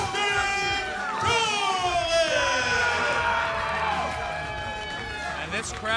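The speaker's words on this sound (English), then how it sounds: "And this crowd is going berserk for Christian Darling" A wrestling crowd cheers and whoops wildly with loud, sustained yelling and rising shouts, while an excited commentator talks over the din.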